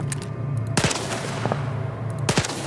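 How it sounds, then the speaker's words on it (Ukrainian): Gunfire in the video game Stalker 2, with a couple of sharp bursts of shots punctuating a steady low ambient hum, fairly close and without talk. "Тоді будемо стріляти."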